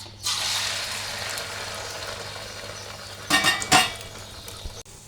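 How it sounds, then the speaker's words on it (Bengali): An egg sizzles steadily in a frying pan in a home kitchen, a close, even hiss broken near the end by a few brief clinks of a utensil against the pan. "হয়ে গেছে, আমি এখন ভেজে নেব।"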